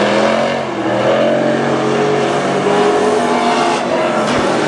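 WISSOTA Super Stock race cars roaring around the oval at Granite City Speedway, a loud continuous engine drone with rising and falling revs as the pack runs, close and dominant throughout.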